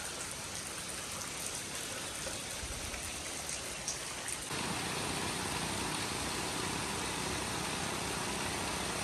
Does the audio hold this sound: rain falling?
yes